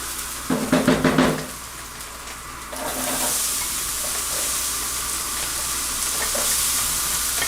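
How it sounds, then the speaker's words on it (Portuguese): Garlic hits a very hot pan with a loud burst of sizzling, then a steady hiss of frying continues nearby, while a spoon clinks and stirs through it briefly early on, with no talking. "Dar uma tostadinha primeiro no alho."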